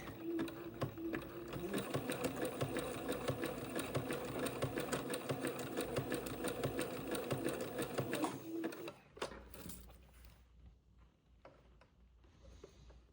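A sewing machine zigzag-stitches lace trim onto a French Acadian sundress, running loud and continuous for about eight seconds before stopping, followed by scattered handling noises.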